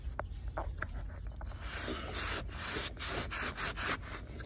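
A rag wipes rust off an old iron tool treated with muriatic acid, making close, scratchy rubbing strokes in an uneven back-and-forth rhythm, with no speech.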